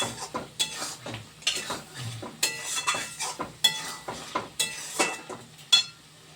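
A spoon scrapes and clinks steadily around a pan as fried eggs are stirred into an egg curry, with a faint sizzle beneath the rhythmic strokes.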